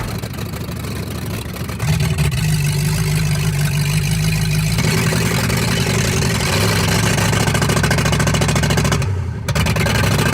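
A Suzuki Samurai fitted with a junkyard big-block engine roars steadily at wide-open throttle while flooding, a loud continuous low rumble that briefly dips near the end before resuming.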